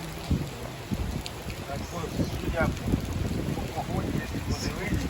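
Rain falling outdoors with wind noise, a steady patter and rush throughout, with people talking nearby.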